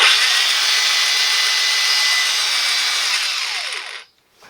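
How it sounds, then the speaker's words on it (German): A Makita DGA452 angle grinder, fitted with new carbon brushes and its disc removed, runs free at a loud, steady high-pitched whine, then is switched off and winds down to silence near the end. "Also laufen tut die Flex"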